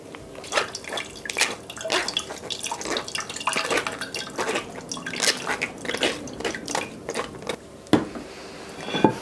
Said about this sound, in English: Got a metal strainer here, I'm gonna place it over my pot. Let all this go through.